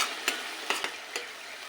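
Ginger garlic paste with curry leaves frying for chicken curry, a dense steady sizzle broken by a few soft scraping stirs, close and without talk.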